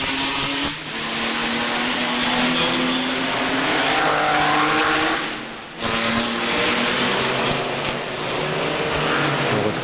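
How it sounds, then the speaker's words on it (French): A vintage Maserati 4CM race car roars past at the historic Monaco Grand Prix, its engine loud and sustained, revving and shifting with a brief dip before surging again. "Ah, ça c'est une ancienne Maserati"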